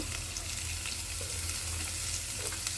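Vegetables fry in oil in a pan with a steady, close, continuous sizzle and faint crackles throughout, no voices.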